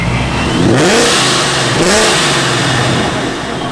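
A Camaro engine with a Procharger D1X supercharger revs hard twice, rising and falling with a gritty roar and a high supercharger whine on top, close up.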